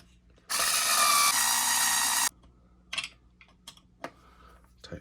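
A power driver tightens M3 x 12 screws on a Team Corally Xtreme RC chassis brace with one loud whirring burst of about two seconds, followed by a few small clicks and taps of handling the parts.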